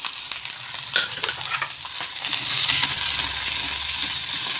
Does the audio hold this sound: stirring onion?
yes